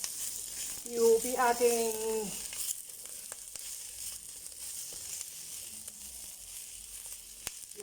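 Ingredients for homemade Japanese curry sauté in a pan with a steady, moderate sizzle and crackle, while a voice speaks briefly near the start over it.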